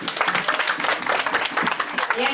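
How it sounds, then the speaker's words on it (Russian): Audience applause at a training seminar, dense steady clapping from a crowd filling the whole short stretch at an even level, with some voices mixed in. "Аплодисменты!"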